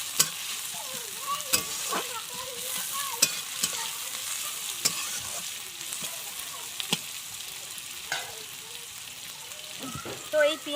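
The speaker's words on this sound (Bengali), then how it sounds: "এবার এতে দিয়ে দেবো পেঁয়াজ কুচি।" Chopped onion fries with cumin and dried chilli in a pan for a jackfruit curry, a soft continuous sizzle broken by repeated clicks and scrapes of stirring, close and fairly quiet throughout.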